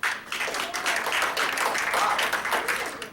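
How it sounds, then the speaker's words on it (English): Audience applause at a hypnosis show, a full, steady round of clapping from a crowd lasting about three seconds with no talk over it. "Group A, round of applause."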